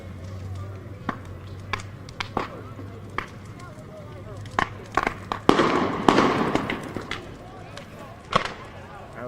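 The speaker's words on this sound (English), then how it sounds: "That was more gunshots." Gunshots ring out outside at night, a string of sharp, scattered cracks at irregular intervals, some close and loud, others fainter, with a denser burst in the middle over steady background noise.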